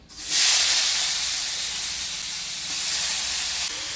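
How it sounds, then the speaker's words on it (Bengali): Chopped potatoes hiss loudly as they drop into hot oil left over from frying shrimp, a sharp broadband sizzle that bursts up at once and holds steady throughout. "এখন এই চিংড়ি মাছ ভাজার তেলের ভিতর আমি আলু কুচিগুলি ভেজে নেব"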